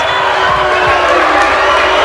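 A crowd at a women's wrestling match roars steadily and loudly throughout, a dense wall of shouting and booing without a break.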